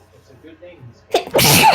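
A single loud, close human sneeze bursting out abruptly after quiet background murmuring, with a sharp inhale and forceful release.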